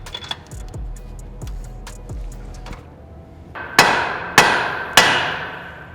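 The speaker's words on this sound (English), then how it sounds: "We'll remove this and replace it with a regular nut that we can hammer on." Hammer blows on a nut to break a car's front lower ball joint free during control arm replacement on a GR86/BRZ/FRS/GT86: several dull thuds, then three loud ringing metallic strikes about half a second apart, close by.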